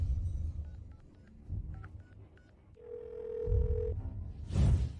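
A telephone number is punched into a phone keypad, giving a quick series of short electronic beeps, followed by a steady held tone and a louder rustling burst at the end, with no speech.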